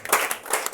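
A church congregation claps together in a short burst of several quick, loud hand claps with a roomy indoor sound.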